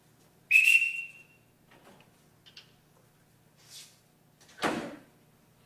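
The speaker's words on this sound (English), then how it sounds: "Everyone here answers to a whistle." A sharp, loud whistle blast sounds once on stage during a Sound of Music theatre performance, followed by faint clatter, a door-like knock and a thump, with no talking.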